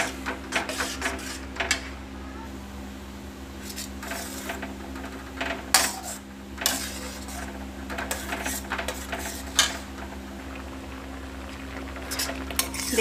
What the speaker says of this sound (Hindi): देखिए हमारा झाझरिया पक रहा है।